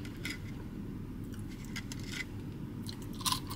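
Someone eating fast food fries dipped in honey mustard at a Checkers/Rally's meal, with faint crunchy bites and chewing close up over a low steady background hum, plus a brief sharper crunch near the end.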